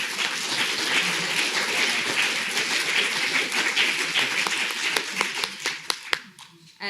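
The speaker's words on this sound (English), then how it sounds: "can we do an applause?" Audience applause at an artist-curator talk, a dense wash of many hands clapping that fades into scattered sharper claps near the end.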